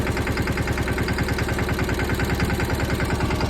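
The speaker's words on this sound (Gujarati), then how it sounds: "આ ટ્રેક્ટર હાલે એમ હાલે ધીરે ધીરે." A tractor engine runs slowly at low revs, with a steady, close, rhythmic chugging thump that continues throughout without a break.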